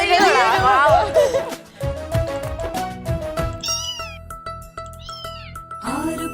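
Repeated meowing cat cries ring out over a lively Malayalam children's song, with loud music and singing throughout; the meows blend into the melody and may be a voice imitating a cat.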